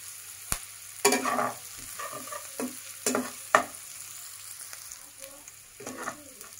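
Onions fry in oil for a fish curry, a soft sizzle underneath repeated clattering strokes of a spatula scraping and stirring the pan, fairly quiet and close.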